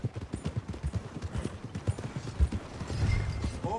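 Horse hooves clip-clop in a steady walking rhythm on a town street in the Red Dead Redemption 2 video game, close and clear with faint ambient noise and no talk.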